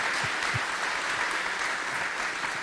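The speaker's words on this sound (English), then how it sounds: "If you all would join me one more time in a round of applause for these three gentlemen." A steady round of audience applause at a community evening remembering Dutchtown and Old Lincoln School, honoring three gentlemen; dense, even clapping fills the whole stretch without pause.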